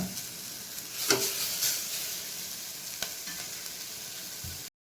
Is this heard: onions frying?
yes